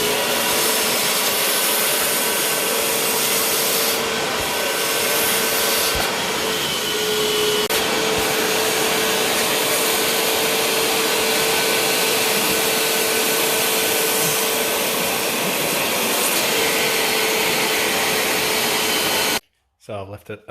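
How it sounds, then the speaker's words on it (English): A wet vac cleaning an old, dirty seat belt runs as a loud, steady suction whine for most of the stretch, with its pitch shifting slightly as the nozzle moves, then cuts off abruptly near the end. "if you're lucky enough to have a wet vac, give it a quick wet vac"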